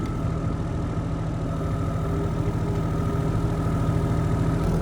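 A Kubota excavator's diesel engine runs at a steady idle, with a close, even, low rumble and a mechanical hum that holds unchanged throughout, with no voices.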